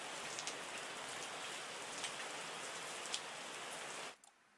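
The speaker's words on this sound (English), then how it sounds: "Oh, come on, rain." Rain falling in the video game Terroir, a steady hiss of drops on surfaces with a few louder patters, holding evenly before cutting off abruptly near the end.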